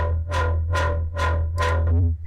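Distorted synth with a low-pass filter swept by an LFO tool, giving four rhythmic pulses that open bright and close dark over a heavy sustained bass, loud and dry, with no voices.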